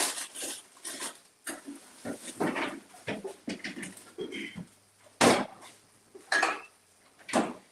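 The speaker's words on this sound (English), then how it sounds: "So let's get the cutting board." A cutting board is fetched and handled in a home kitchen: scattered knocks, clatters and scrapes of board and utensils come in separate bursts, close by, with quiet gaps between them.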